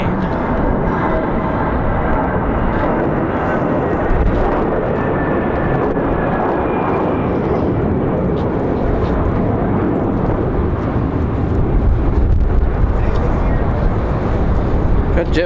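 An Airbus A319 airliner at Raleigh-Durham airport on a windy day, a loud, sustained broadband engine roar with wind rumble throughout, steady and close, building slightly near the end.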